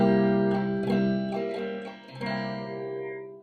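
A dominant seventh barre chord on guitar strummed several times in a loose rhythm, ringing with a slightly distorted electric tone and sustaining between strums.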